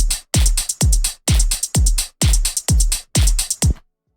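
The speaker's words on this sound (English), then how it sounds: "Then, add a few closed hi-hat notes to taste." An EDM drum loop programmed in Ableton, with closed hi-hats sitting on a 1/16 grid over a steady kick. It plays in clean, tightly quantized bursts, loud and close, with no voices.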